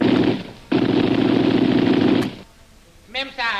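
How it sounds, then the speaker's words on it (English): Sound-effect gunfire in an old adventure radio drama, a dense rattling burst of rapid shots, a brief gap, then a second long burst, followed by a short pause and a voice speaking. "He's firing over their heads, Abu."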